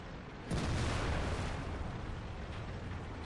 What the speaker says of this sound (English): Got him. We ammo racked him.